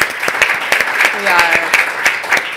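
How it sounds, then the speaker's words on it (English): Audience at a talk hosted at Google giving a quick round of applause, brisk and fairly close clapping with some voices mixed in. "if I could just ask for a quick round of applause for Google and for our friends at Google for hosting this"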